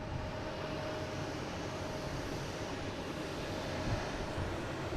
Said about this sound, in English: is Iberia, an A330-200 coming in from Madrid